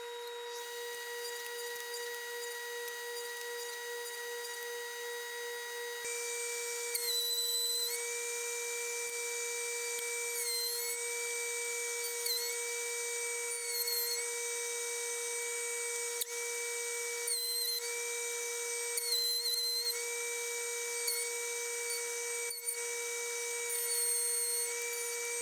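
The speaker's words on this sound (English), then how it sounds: "I will go over to the router table and use that to hog out the rest of the material with a 3/4 inch bit" A router table with a 3/4 inch bit cuts tenons in wood, giving a steady high-pitched motor whine with repeated brief louder bursts as the bit bites into the workpiece, close and continuous.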